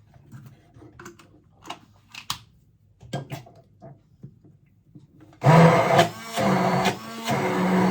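Blender re-pureeing a tuna and mayonnaise sauce, a loud whirring motor roar that starts abruptly after several light knocks and clinks of handling and runs steadily to the end.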